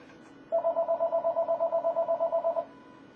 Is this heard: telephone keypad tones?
yes